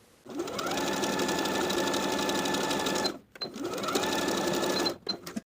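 Sewing machine edge stitching along the inner fold of a blouse hem, running in two steady bursts of close, continuous whirring with a short pause between them.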